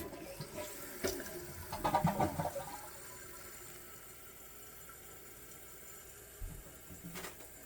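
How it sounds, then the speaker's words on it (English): A toilet flushes with a brief rushing surge of water, then settles into a steady, quieter trickle as the tank refills. "Now flush it again and let's see how the water"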